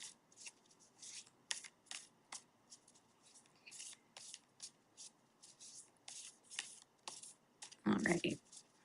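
Tarot cards shuffled by hand for a card pull, close riffling and soft slaps in quick irregular bursts, ending with a louder handling rustle.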